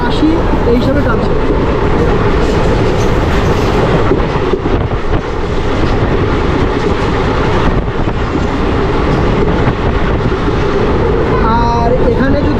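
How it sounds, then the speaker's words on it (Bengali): A Katwa–Ahmadpur passenger train running at speed, around 70 to 80, between Kirnahar and Labhpur, heard from inside as a loud, steady rumble and roar of wheels on rails throughout. "কিন্নাহার স্টেশন থেকে যখন আমরা লাভপুর দিকে গেছি তখন কিন্তু ট্রেনের এই গতিবেগটা মোটামুটি 70, 80 এই হিসাবে টানছে"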